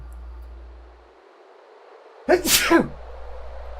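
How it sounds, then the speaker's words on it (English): A single sharp sneeze bursts out close to the mic after a quiet stretch with faint background hiss and a low hum. "I sneezed."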